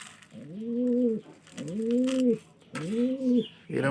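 White pigeons coo in three clear, evenly spaced rounds, each a soft, throaty warble close by. No one speaks.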